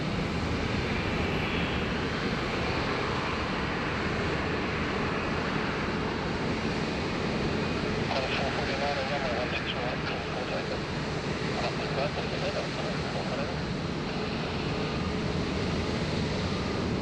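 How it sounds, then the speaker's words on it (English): At Sydney Airport an airliner taxis toward runway 16R for a departure to Nadi, Fiji, a steady distant engine roar under wind-like broadband noise, with a voice talking intermittently over it. "It's heading on to taxiway Alpha for a runway 16 right departure back to Nandi, Fiji."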